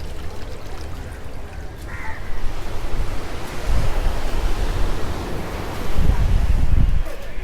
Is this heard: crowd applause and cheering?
no